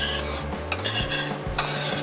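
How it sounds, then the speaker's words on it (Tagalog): Stirring a milk mixture with a utensil in a pot to dissolve powdered milk for blue ternate ice candy, giving close, repeated scraping and clinking strokes in an irregular rhythm with no talk. "Haluin lang natin para matunaw din yung powdered milk na nilagay natin"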